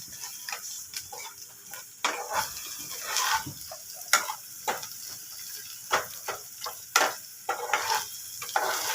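Spice masala frying and being stirred in a pan after Kashmiri chilli powder goes in, ahead of potatoes for a red fish curry: steady close sizzle broken by repeated sharp scraping strokes of the spoon, no talking.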